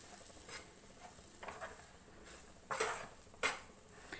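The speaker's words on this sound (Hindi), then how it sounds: "तो इसको ऐसे मिक्स कर देंगे और 2-3 मिनट ऐसे भून लेंगे।" Gram flour (besan), about one to one and a half bowls, being stirred and roasted in a pan over a low gas flame, giving a soft scraping stir with a few sharper spoon-against-pan scrapes and no talk.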